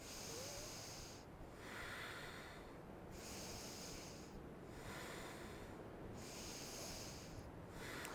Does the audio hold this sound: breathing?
yes